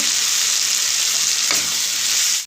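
Ground spices, including cumin, coriander and red chili powder, fry and get stirred in a pan for chana masala, making a loud, continuous close sizzle with a brief scrape midway before it cuts off abruptly.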